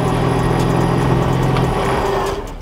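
A car engine idles steadily up close with a constant low hum, then quietens near the end.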